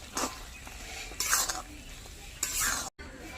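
A spoon stirs okra and potato curry in mustard paste in a cooking pan, giving three short scraping, sizzling strokes spaced apart over a soft background hiss.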